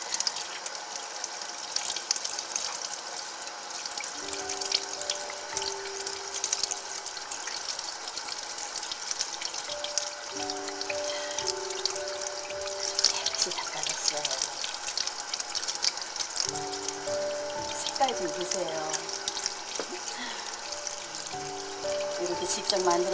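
Salted chub mackerel gets rinsed under a running kitchen tap, a steady hiss of flowing water with splashes and trickles as the fish is handled, under a voice talking throughout.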